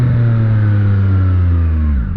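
A car engine pulls away in second gear with a steady, strained mid-pitched drone and low harmonics. The pitch rises slowly and stays close and loud throughout.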